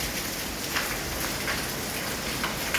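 Heavy monsoon rain pours down in Vadodara, a dense, loud, unbroken hiss of water falling and splashing across surfaces, with no voices.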